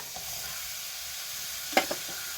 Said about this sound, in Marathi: हे मसाले असे परतून घ्यायचे